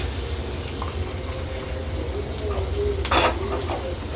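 Food sizzles and crackles steadily in a hot pan while being lightly sautéed for a Tamil garlic kuzhambu, with a brief scrape of stirring near the end.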